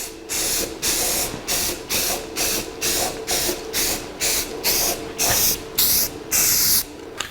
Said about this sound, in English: we'll put a little primer on it